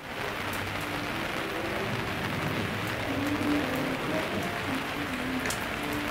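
Steady rain falling outdoors on a winter day, a dense continuous patter and hiss at an even moderate level throughout, with a faint low hum beneath and no clear voices.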